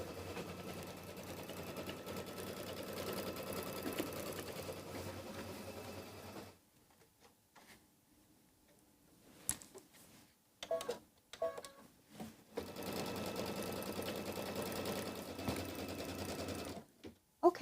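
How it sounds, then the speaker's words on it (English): An embroidery machine sews a tack-down stitch on quilt fabric, a steady mechanical whirring hum that stops for a pause filled with clicks and handling noises, then starts up again. "then it will do a tack down stitch holding it all in place"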